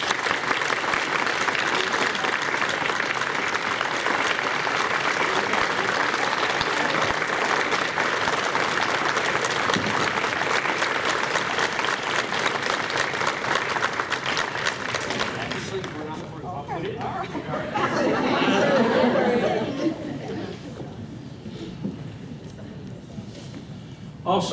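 Sustained applause from a roomful of guests at a retirement party, loud and even for about fifteen seconds, then thinning out while a few people talk and cheer nearby.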